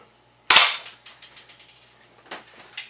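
An airsoft gun fires one sharp, loud shot at a target in a basement range, followed by a few fainter clicks and taps in the quiet room.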